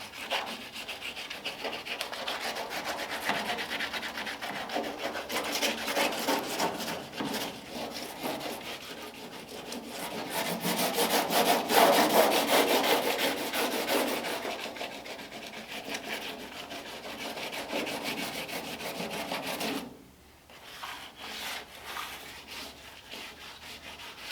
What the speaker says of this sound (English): because it's just like a light overspray, it really doesn't take much force at all to rub it off